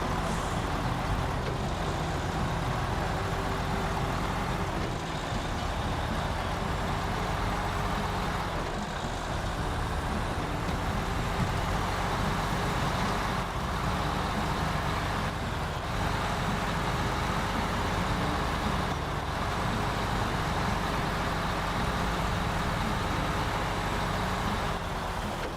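Scania truck engine in the video game Snowrunner, a steady, continuous diesel drone and rumble holding evenly for the whole stretch, with no talk.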